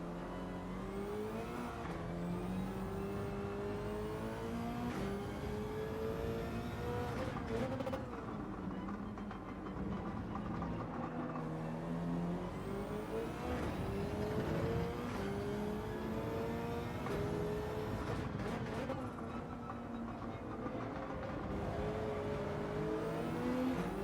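Race car engine in Gran Turismo 7, revving and whining up and down through the gears with a brief dip as it brakes, continuous and fairly loud; no one speaks over it.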